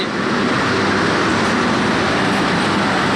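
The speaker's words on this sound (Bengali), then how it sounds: "গাইস দেখতে পাচ্ছেন এই ট্রেনটি আমার সঙ্গে রেস করছে।" The Rangpur Express runs past at Jamuna Bridge railway station with a loud, continuous rumble and roar from the passing train, close by and steady throughout.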